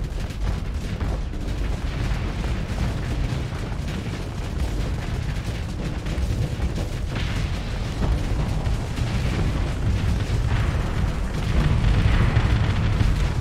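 Giant torpedoes explode in a space battle in the video game Starsector, a steady roar of booms and blasts rumbling on without pause, slightly louder toward the end.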